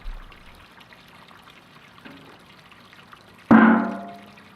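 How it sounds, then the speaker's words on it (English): Beer wort poured into a sanitary fermentation tank comes in as a sudden, close splash of liquid after a quiet stretch. The sound then fades gradually as the flow settles. "you must transfer your wort into the sanitary fermentation tank"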